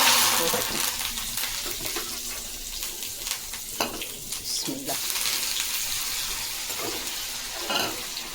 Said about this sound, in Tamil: எல்லாமே போட்டு நல்லா ஃப்ரை பண்ணினா ஃப்ரை நல்லா சிகப்பாகட்டும்